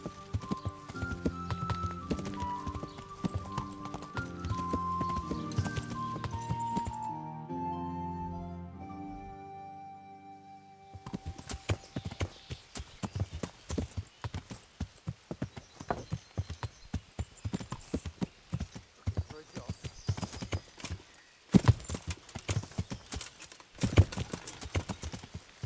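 Horse hooves clip-clop in Kingdom Come: Deliverance, a steady rhythmic patter that runs through most of the stretch alongside a game music score, with a brief pause where the music shifts.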